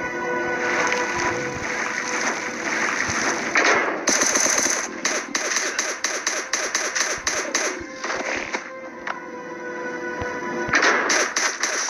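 Rapid bursts of automatic gunfire from the survival video game Last Day On Earth Survival, crackling in dense, loud volleys with brief pauses between strings of shots.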